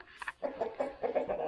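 Chickens cluck close by in a short run of soft, repeated clucks, with no talk over them.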